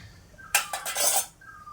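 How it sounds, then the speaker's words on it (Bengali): A spoon scrapes and clatters against a pot while potato and bottle gourd curry is stirred: about a second of close, bright scraping in a few short strokes, then quiet. "আস্তে আস্তে আপনারা নাড়তে থাকবেন"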